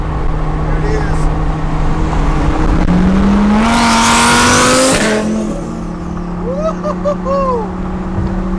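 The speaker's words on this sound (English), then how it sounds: "we'll get some video of the sound of that Heffner twin turbo." A Heffner twin turbo Audi R8 accelerates past with a rising engine roar that peaks near the middle and then recedes, heard over steady road noise from another car, with a voice talking.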